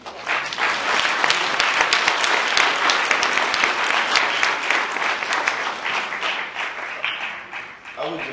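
Audience applauding at a museum screening reception, a steady dense patter of many hands clapping for about eight seconds, loud and close, tapering slightly at the end.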